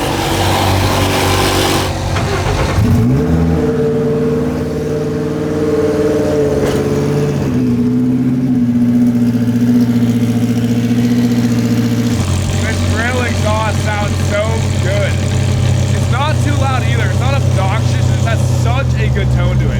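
Car engine at a car meet, a cold start that revs with a rising drone, holds a high idle, then settles lower; people talk over the engine in the final stretch.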